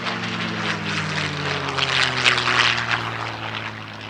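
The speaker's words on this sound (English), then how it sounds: "A little bit of warbird action next, courtesy of R.T. Dixon in P-51D Mustang Swamp Fox." A 1945-built P-51D Mustang warbird named Swamp Fox flies past at an airshow, its piston engine and propeller producing a steady, loud drone with harmonic tones that swell slightly mid-pass, with no voices.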